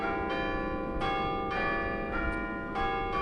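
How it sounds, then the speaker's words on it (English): Church bells tolling at St. Julia Billiart Church in Hamilton, a series of ringing strikes roughly every half second to second, with long overlapping resonant hum, moderately loud and without speech. "the bells tolling here at St. Julia Billiart Church in Hamilton"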